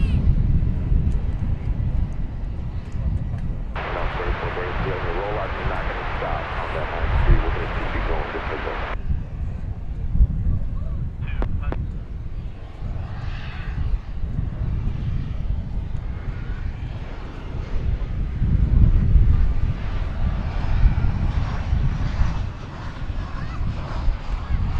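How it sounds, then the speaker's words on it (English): An American Airlines Airbus A321neo at DFW Airport gives a low, steady engine rumble from a distance that swells toward the end, with wind buffeting and a burst of brighter noise early on. There is no clear speech. "This is going to be American Flight 1241, I'm going to say. It's an Airbus A321 Neo."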